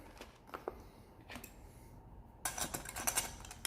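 Grated Parmesan is mixed into garlic wing sauce in a bowl, with quiet, close clinks and scrapes of a utensil against the dish that grow busier and more frequent toward the end.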